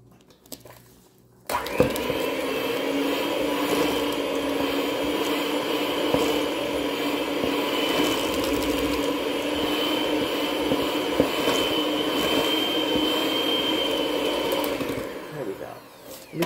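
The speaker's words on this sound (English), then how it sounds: "Put the dry into the wet. And make sure the mixer is on." An electric mixer runs steadily for about thirteen seconds, beating dry ingredients into wet for maple chocolate chip cookie dough. Its whirring drone is loud and close, then cuts off at the end.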